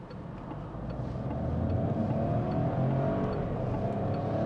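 A 2023 Peugeot 308 hatchback in sport mode accelerates at full throttle, a steady low engine drone that swells slightly and holds, heard from inside the cabin with no talking.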